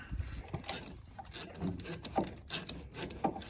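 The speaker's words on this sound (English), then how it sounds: "You got to put a little pressure out like that to get it out because of the rust." Scraping, grinding rubs as a rusted front brake caliper pin on a Mazda CX-7 is worked and pulled out, in uneven, close bursts of friction.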